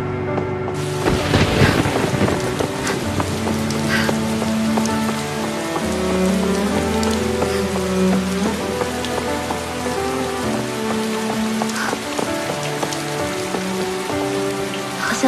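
Steady rain falls and patters on a surface outdoors as a storm sets in, a dense continuous hiss that lasts throughout, with music playing over it.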